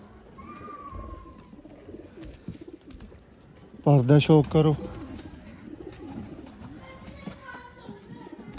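Pure Mian Sahib pigeons cooing, one loud close burst of rhythmic coos in the middle over faint background birds, with people talking nearby.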